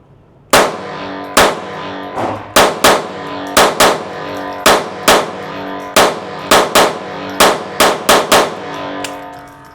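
A Taurus TX22 rifle fitted with an FRT trigger fires a magazine at a shooting range: a loud close volley of roughly twenty sharp reports, irregular at first, then in quick uneven bursts, ringing briefly after each shot.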